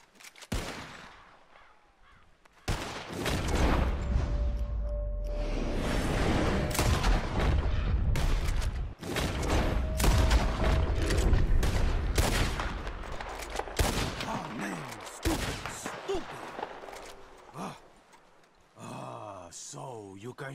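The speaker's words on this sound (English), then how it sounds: "whoever shoots four birds out of the sky first wins" Gunfire in the western video game Red Dead Redemption 2 during a bird-shooting contest, a dense burst of loud cracking shots for several seconds, with birds and a speaking voice near the end.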